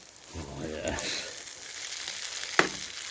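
Chicken tikka masala sizzling in a pan at a winter wild camp in Scotland, a steady frying hiss with a brief stir and a sharp clink near the end, close and fairly loud with no talk.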